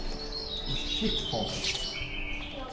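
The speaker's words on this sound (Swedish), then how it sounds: "Massa kvitter och grejer." Birds chirping and calling in a cool, dark forest near a vineyard, bright overlapping tweets running continuously over a steady background hiss, with some louder calls close by.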